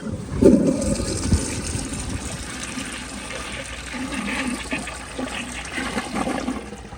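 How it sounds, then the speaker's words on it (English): A 2001 Kohler Tyrrell service sink toilet with a mid-filled tank gives a push-and-release flush: a sharp initial gush followed by steady swirling, draining water that continues at moderate volume for several seconds, close up with no speech. "But here's an actual push and release flush."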